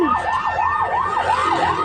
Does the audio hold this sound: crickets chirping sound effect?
no